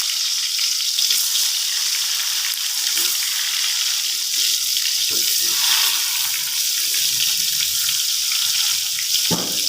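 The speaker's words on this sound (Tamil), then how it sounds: "இப்போ ஃப்ரை பண்ண போகிறோம்." Brinjal (eggplant) pieces frying in hot oil for a brinjal thokku, a steady loud crackling sizzle that runs unbroken throughout, with a few faint clinks near the end and no talking.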